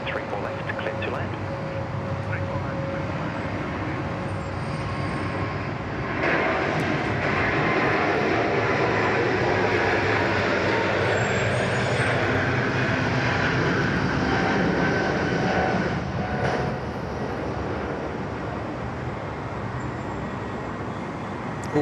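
Jetstar airliner landing on runway 34 left at Sydney Airport, a steady broadband jet roar held at moderate distance for the whole stretch, swelling slightly in the middle as it passes, with faint traffic noise beneath.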